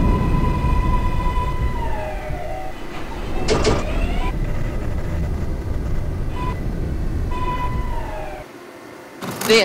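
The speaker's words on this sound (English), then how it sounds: "Stand clear of the closing doors, please." Subway car doors on a Manhattan-bound 5 local train in the OpenBVE simulator slide shut near a station, with door chimes sounding over a steady rumbling car interior before the motor noise drops away.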